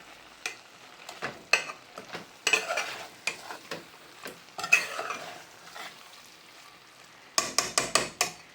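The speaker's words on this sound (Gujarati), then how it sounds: "આવી રીતના ચમચી મારતી જવાની એટલે નાના નાના પીસ થઈ જાય" A spoon repeatedly strikes and breaks up dried fish in a cooking pan, giving irregular metallic clinks and scrapes that end in a quick burst of taps over a faint sizzle.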